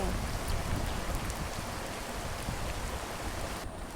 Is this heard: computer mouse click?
no